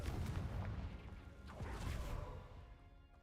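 Confringo fire spell from Hogwarts Legacy bursting into a heavy, rumbling explosion with a whooshing blast and debris crash, loud and close, swelling again midway before fading out.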